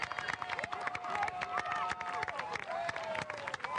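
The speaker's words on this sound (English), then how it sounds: "A standing ovation for the New England Patriot cheerleaders, and well deserved" Standing crowd applauds and cheers the New England Patriots cheerleaders at a bicentennial parade in Burlington, a dense steady wash of clapping with scattered shouts throughout.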